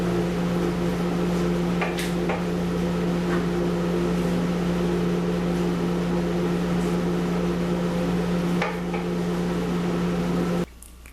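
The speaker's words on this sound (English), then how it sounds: "I'm going to microwave my corn tortillas for a minute and 30 seconds." A microwave oven heats corn tortillas with a loud, steady electrical hum and faint clatters, then cuts off abruptly near the end; no talking.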